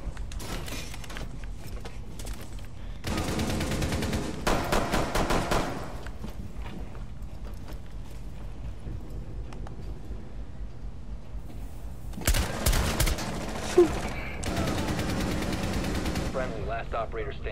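Gunfire in a first-person shooter game comes in two loud clusters of rapid shots separated by quieter stretches of game ambience, with faint voices in the background.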